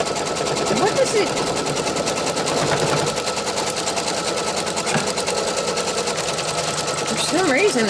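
Sewing machine quilting while making an odd, strange noise: a continuous rapid mechanical rattle, loud and close, running throughout with a voice speaking over it.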